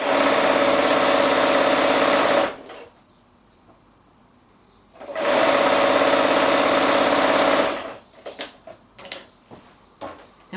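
Sewing machine chain piecing quilt four-patch blocks, running in two loud, steady bursts of about two and a half seconds each, separated by a near-silent gap and followed by light handling clicks.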